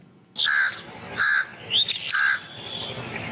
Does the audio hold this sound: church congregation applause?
no